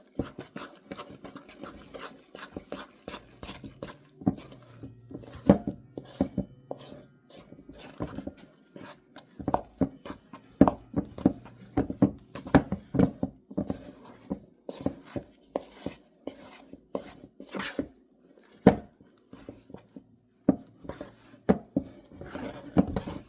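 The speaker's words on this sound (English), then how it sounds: "Then take a spoon and mix it all up." A spoon stirring biscuit dough in a bowl, giving a long run of irregular scraping and soft knocking strokes, close and fairly quiet, heard alone with no talk.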